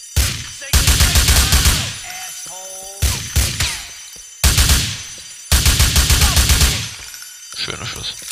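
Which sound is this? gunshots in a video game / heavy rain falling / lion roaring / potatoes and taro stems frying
gunshots in a video game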